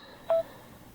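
A single short electronic beep from Ally Solos smart glasses entering Bluetooth pairing, clear and brief, against quiet background hiss.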